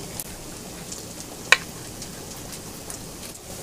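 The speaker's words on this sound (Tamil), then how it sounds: "கேரட் பீன்ஸ் நல்லா வதங்கட்டும்" Carrots and beans sauté in a hot pan with a steady, soft sizzle throughout, broken once midway by a single sharp click.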